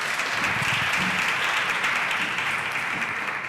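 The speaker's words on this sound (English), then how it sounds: "A round of applause to Faulu once more time." At the Siri Solvers Festival 2024 session, an audience breaks into a steady round of applause, dense and loud clapping holding evenly from start to finish.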